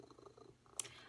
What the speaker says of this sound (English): I don't know if you can hear me over the purring that's happening down here.